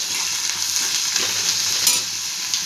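Grated coconut and mint leaves sautéing in a hot pan, a steady soft sizzle with faint stirring scrapes and no voices.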